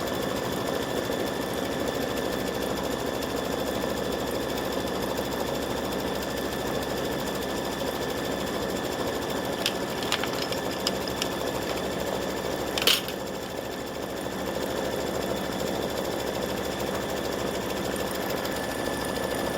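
An embroidery sewing machine stitching a wishbone applique onto a Thanksgiving gnome hat, a steady rapid mechanical whirr and needle clatter running continuously, close and fairly loud, with a brief click partway through.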